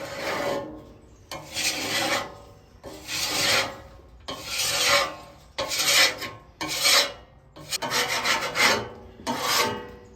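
Gunk being scraped from inside a Lone Star Grillz pellet smoker, heard as about eight rasping scrape strokes in a steady rhythm, each close and fairly loud with short pauses between them and no talking.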